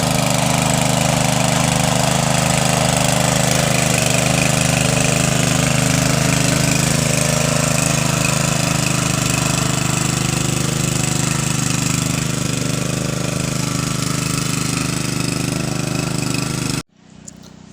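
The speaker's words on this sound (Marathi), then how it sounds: "पाऊस नसल्यामुळे पंप लावून लावणी लावायला लागत आहे इकडे." A water pump engine runs in a paddy field with a loud, steady, close mechanical drone and chugging that continues without a break and cuts off abruptly near the end.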